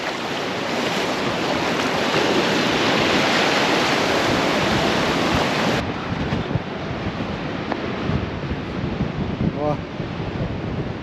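Steady rushing of waves and wind on the open sea, a dense, loud wash of noise with faint voices mixed in.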